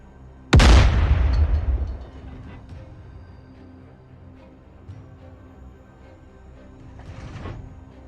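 A heavy cannon blast of enemy fire strikes during a DCS tank battle with T-72 tanks near an HQ-7 site. One loud, close boom decays over about a second, then a quieter rumble and a second, softer burst follow.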